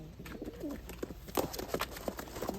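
A racing pigeon coos up close, soft repeated throaty calls in short bursts over faint background rustling.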